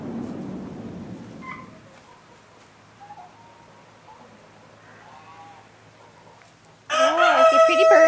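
A rooster in a barn lets out one loud, close crow near the end, after a long stretch of quiet barn ambience with faint scattered bird calls.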